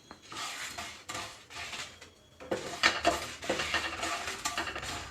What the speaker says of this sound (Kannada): ಉರಿ ಕಮ್ಮಿಯಲ್ಲಿ ಇಟ್ಕೊಂಡು ಹುರ್ಕೊಳ್ಳೋಣ. ಧನಿಯಾನು ಆ್ಯಡ್ ಮಾಡ್ಕೊಳ್ಳಿ.